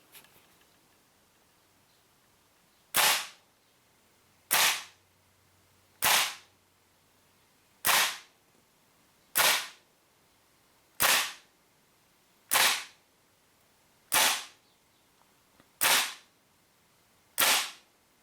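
A WE Apache MP5A2 gas blowback airsoft rifle fires single shots over a chronograph, ten sharp cracks spaced roughly one and a half seconds apart, loud and close against a quiet background.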